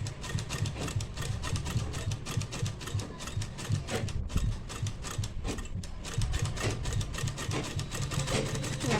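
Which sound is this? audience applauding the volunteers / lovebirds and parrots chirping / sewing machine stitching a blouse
sewing machine stitching a blouse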